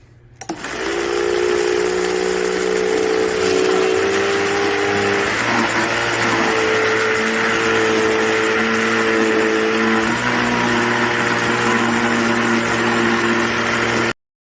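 A small electric ice cream maker motor hums and whirs continuously for about thirteen seconds, its pitch shifting down slightly a couple of times, close and steady.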